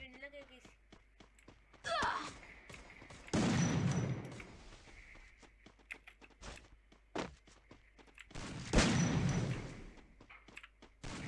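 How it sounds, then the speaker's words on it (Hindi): Shotgun fire in the mobile game Free Fire during a Clash Squad match: a few loud separate blasts spaced seconds apart, mixed with footsteps and lighter clicks while a player talks in Hindi. "अब मैं भी अब ना शॉर्ट गन यूज करूंगा"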